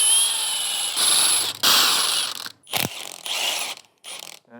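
Ratchet wrench loosening 13mm bolts on a power steering pump during teardown of a 5.3L or 6.2L V8 engine, several quick clicking ratchet bursts close up with brief gaps, no voices.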